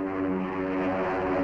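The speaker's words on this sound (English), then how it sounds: "Their job is to protect their ship from assault by diving fighters like this." A WWII fighter plane diving to attack a bomber, its propeller engine droning loud and steady with a rich harmonic buzz that swells slightly through the short stretch.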